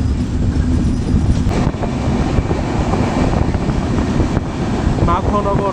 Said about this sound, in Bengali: মাখনগর ছোট্ট একটি স্টেশন, এখানে আন্তনগর এই ট্রেনটি থামবে না।